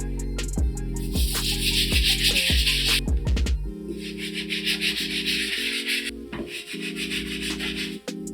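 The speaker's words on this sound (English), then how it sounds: "The first brush we're going to be using is our all-purpose brush to give these uppers a good cleaning" An all-purpose brush scrubs the uppers of a Wolf Grey Jordan 3 sneaker in steady, rapid strokes, with rhythmic rubbing and bristle scratching, close and loud, a hum running underneath.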